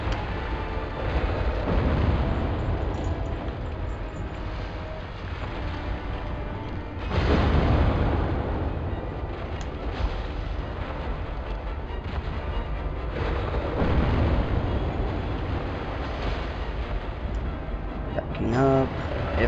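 A boss in the video game Dark Souls sets off a heavy bomb explosion, a loud low rumbling blast that swells and fades over several seconds and repeats amid continuous game noise, with a person talking over it.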